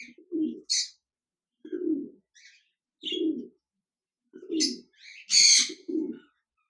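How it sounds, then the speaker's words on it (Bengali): Soft, low coos of diamond doves repeat at a slow, even pace, about six calls close by, with a few faint higher chirps in between. "এক জোড়া ডায়মন্ড ডাব ঘুঘু পাখি রয়েছে"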